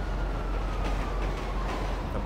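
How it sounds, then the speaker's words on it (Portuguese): A train rolls past in the video game GTA V, a steady, loud, continuous rumble with a faint rattling wash on top, and no voices. "trem!"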